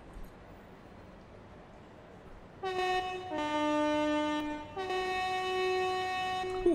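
A commuter train horn in Train Sim World 2 on a London commuter route, two strong sustained blasts over a low running rumble, the second starting after a brief dip, with no talk over it.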